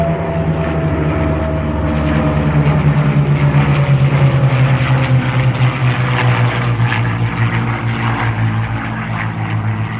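A victory flight formation of propeller aircraft at an airshow flies past and breaks off one at a time, a loud sustained droning engine roar with shifting tones, close and continuous with no voices.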